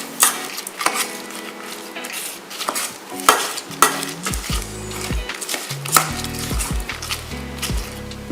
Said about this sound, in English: you mix them all together into the rice cooker pot